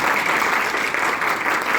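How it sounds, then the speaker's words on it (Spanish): A short burst of dense, steady audience applause at a Colombian novel presentation, a continuous even wash of many hands with no pause. "le demos un aplauso"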